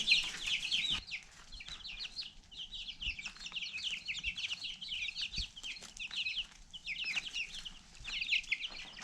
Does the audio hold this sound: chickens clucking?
yes